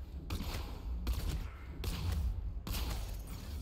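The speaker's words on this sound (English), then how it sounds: "so we can just shoot these guys." Gunfire in the Batman game Arkham Knight as enemies on a bridge are shot, a dense steady barrage of game shots and impacts with repeated bright bursts, loud throughout and with no voices.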